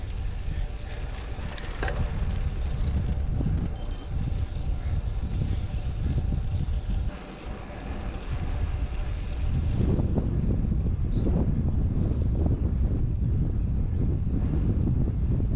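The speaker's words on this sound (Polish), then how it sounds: "Ale fajnie wieje." Wind buffeting the microphone during a spring road bike ride in Alsace, France: a constant low rumbling roar with gusts, briefly easing midway and then growing stronger.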